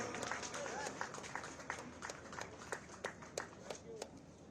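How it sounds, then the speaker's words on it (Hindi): Audience applause at a PAC foundation day award ceremony in Lucknow, scattered sharp claps over a busy crowd murmur, tapering into sparse individual claps. "जोरदार तालियां हो इस अवसर पर।"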